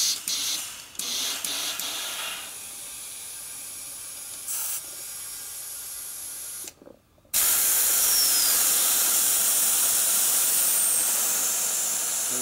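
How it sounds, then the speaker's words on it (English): Air hisses steadily out of a motorcycle tire tube as the valve core is removed on a 1942 Harley-Davidson WLC/WLA 45ci wheel, a loud continuous high rush after brief quieter bursts, with no talking. "Put the core out, it bleeds all the pressure out again."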